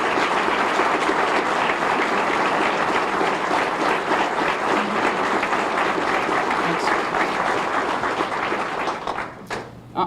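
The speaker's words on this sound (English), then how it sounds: "you guys give them a round of applause" A crowd at a police chief swearing-in ceremony in West Palm Beach claps continuously, dense and loud, the applause sustained throughout before thinning at the end.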